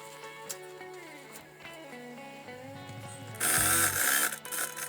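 Sewing machine stitching a tie-style sleeve on fabric, a soft mechanical whir with brief ticks and rattles, ending in a louder burst of fast stitching near the close.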